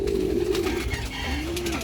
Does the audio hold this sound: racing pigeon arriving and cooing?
yes